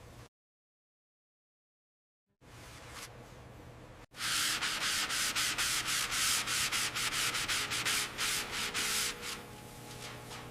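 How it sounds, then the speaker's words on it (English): Wet sanding by hand on a 1967 Ford Mustang Fastback body panel during restoration: after a near-silent gap, a steady, close, loud rhythmic rasping of repeated strokes continues to the end, with no talk. "This is the final wet sand"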